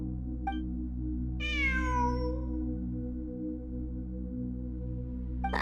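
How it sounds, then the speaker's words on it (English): A cat meows in Genshin Impact, one drawn-out, rising and falling call heard clearly and alone over a steady low game-music hum, with a soft chime before and after it. "I'm not hearing things. It really is a cat."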